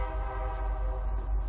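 A steady, continuous train horn blares throughout, a sustained multi-tone chord with low rumble beneath, loud and unbroken.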